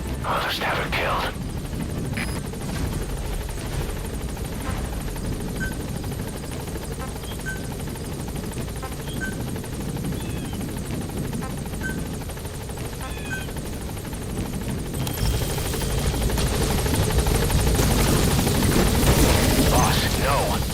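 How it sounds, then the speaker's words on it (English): An extraction helicopter arrives in a stealth action video game as a low rotor roar that swells and grows louder toward the end. Radio-style voices talk over it. "I'll send the extraction chopper"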